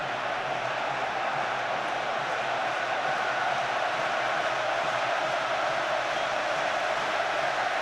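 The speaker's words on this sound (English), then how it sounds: "thunderous now, the noise from the crowd at Wembley" A huge football crowd roars at Wembley during the England v Croatia Euro qualifier, a dense, unbroken wall of noise holding steady and loud throughout with no clear voices standing out.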